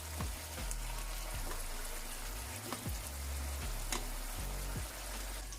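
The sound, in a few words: gravy simmering in a pan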